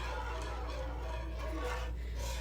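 A wire whisk scrapes across a pan while stirring a parmesan sauce, giving a continuous, quiet, gritty rasping with no pause.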